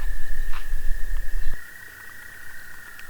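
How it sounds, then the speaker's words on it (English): Frogs calling at a wilderness lake in spring, a steady high trill running throughout with a few brief chirps, over low rumbling wind or movement that drops away partway through. "Pretty sure those are frogs."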